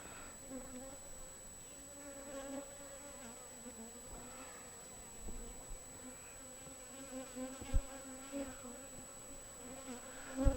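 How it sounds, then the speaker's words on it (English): Bees buzzing steadily around a hive frame during an eight-frame colony check, a dense continuous drone up close with individual insects swelling in and out, no voices. "Maybe it's a little early for these bees this morning."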